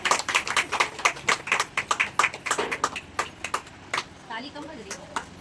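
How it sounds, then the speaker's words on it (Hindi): Scattered hand clapping from a small group at a women's association honoring gathering, sharp irregular claps fading out toward the end with some talk underneath. "ताली कम बज रही है।"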